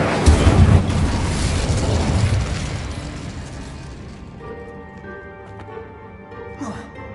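Incendio fire spell cast in Hogwarts Legacy on PS5, a loud whooshing burst of flame that erupts at the start and then fades into a lingering roar with tonal game sounds.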